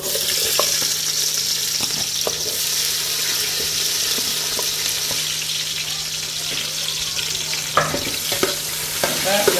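Onions fry in a pan for biryani with a loud, continuous sizzle close up, punctuated by scraping stirs that come more often near the end.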